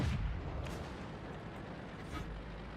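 A Panzer IV tank shell strikes the player's tank in World of Tanks, a loud booming impact at the start that fades into a long rumbling roar of battle noise.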